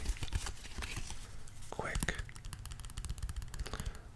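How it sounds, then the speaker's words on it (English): A jumbled stack of Pokemon cards being shuffled and handled up close, giving soft crisp card-stock flicks and rustles in quick bursts under a whispered voice. "shuffling of sorts to get your cards in order before handling them or handing them to a friend"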